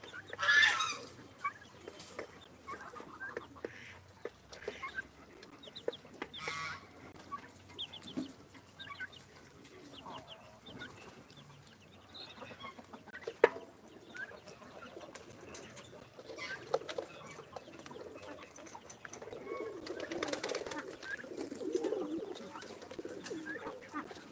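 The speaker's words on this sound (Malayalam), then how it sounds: "കോഴികൾ നമ്മളെ മാക്സിൻ്റെ അടുത്തുള്ള മാക്സിൻ്റെ ബാക്കിയുള്ള വേസ്റ്റ് ഫുഡ് കഴിക്കുന്നുണ്ട്" Chickens cluck and murmur intermittently at a moderate distance, mixed with soft cooing birds in a quiet outdoor setting.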